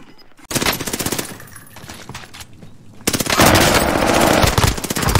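Rapid automatic gunfire from a video game, dense bursts that start abruptly, briefly ease, then swell louder and busier toward the end, with no talking over it.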